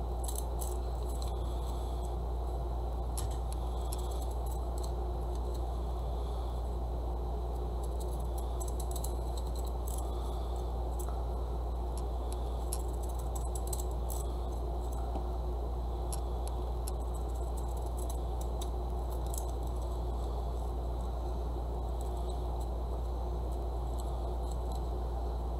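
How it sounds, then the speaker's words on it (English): Old scissors snip repeatedly to add texture to a craft piece, making faint, irregular clicks over a steady low background hum, with no voices. "to add some different textures, I'm going to take these old scissors"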